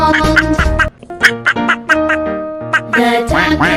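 Cartoon-style duck quacks come in quick bouncing bursts over bright music in a children's phonics song, loud and close; the quacks may be voiced imitations.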